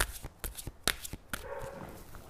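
Oracle cards being shuffled by hand during a reading: a quick series of sharp riffling snaps and slaps, close and fairly soft, followed by a lighter continuous flutter of cards.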